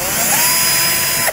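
Power drill fitted with a 5/8 inch bit widening a pin hole in a steel Curt trailer hitch receiver for a 2017 Mercedes-Benz; close, loud continuous high-pitched whine with grinding, stopping abruptly at the end.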